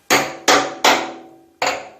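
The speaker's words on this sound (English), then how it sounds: "you take your awl, okay, and your hammer, put it on a piece of wood, and just get in there" Four sharp metallic hammer blows on an awl, driven through an inner fender seal on a wooden block while working on a 1968–74 GTO A-body. The strikes are loud and close, spaced about half a second apart, with a pause before the last.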